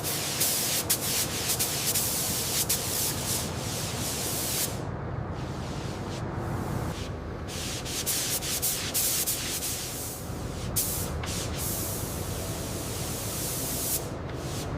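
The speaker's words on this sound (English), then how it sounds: "We're applying the first light base color coat to build a smooth, even foundation before the final finish." A spray gun lays a light base color coat on the body of a 1979 Jet limousine, a steady close hiss of atomized paint that runs continuously with a few brief breaks, heard alone without voices.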